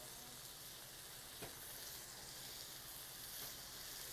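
Canadian bacon frying in butter left over from a burger, a steady faint sizzle and hiss continuing throughout with no talk.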